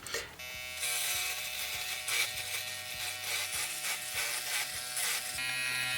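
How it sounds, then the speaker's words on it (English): An electric razor shaves a face during a van road trip in West Virginia, giving a loud, steady, close buzzing drone that starts abruptly and runs on without pause. "So I'm going to shave that off now."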